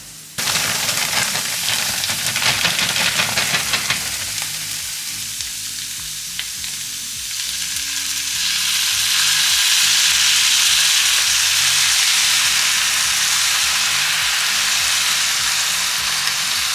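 Noodles with soy sauce and garlic frying in a pan, a loud steady sizzle with stirring and scraping clatter, hissing rising as more goes in, close up with no talking.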